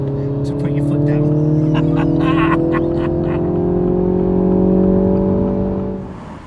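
A Mini Cooper three-door accelerates hard on the Autobahn, its engine note climbing steadily in pitch from inside the cabin, loud and continuous until it eases off near the end, with a voice speaking over it.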